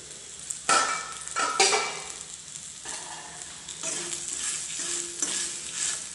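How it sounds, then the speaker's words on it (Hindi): Green chilies sizzle steadily in a hot pan while a spoon stirs them, with scraping and occasional light clinks against the metal, close and continuous. "अब इन्हें एक मिनट के लिए ढककर पकाएंगे जिससे कि हमारी मिर्च थोड़ी सी सॉफ्ट हो जाए।"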